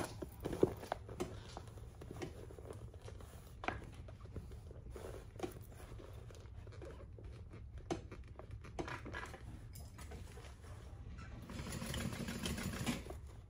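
Sewing machine back stitching a crossbody bag, a faint, low mechanical whirr running steadily with soft rattly patter, growing slightly louder near the end.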